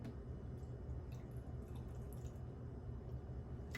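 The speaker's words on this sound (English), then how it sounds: "I'm going to pour my creamer into my frother, into my Arancino, and I'm going to just pour that to the bottom line" Creamer poured into an Aeroccino milk frother, a steady soft liquid trickle and drip running throughout, close and fairly quiet with no talking.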